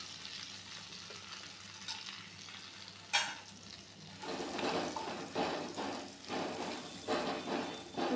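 Whole spices sizzling in hot oil for a tempering: bay leaf, dried red chilli, cardamom, cinnamon, cloves and cumin. A soft, steady frying hiss is broken by a sharp clack and then louder rustling stirring.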